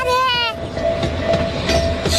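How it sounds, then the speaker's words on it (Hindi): Cartoon mini train running on a park track: a steady rolling rumble with faint clacking runs under the scene, following a brief tonal horn-like blast at the start, with a thin sustained tone above. "मिनी ट्रेन भी चलती है इस पार्क में"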